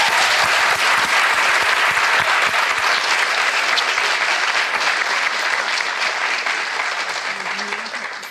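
A studio audience on a Turkish talk show gives a guest loud, dense applause that fills the room, holding steady before tapering slightly toward the end.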